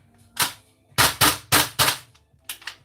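A KWA QRF Mod.3 gas blowback airsoft gun fired with a gas magazine, giving six sharp close pops: one single shot, then two quick pairs, then a final double after a pause.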